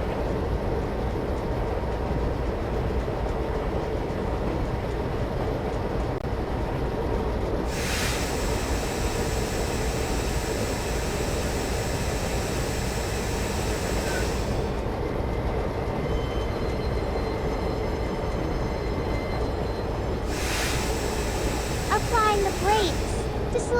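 A train in a railway simulation game glides along the track with a steady, continuous rolling rumble and hiss, plus a few brighter bursts of wheel and track noise.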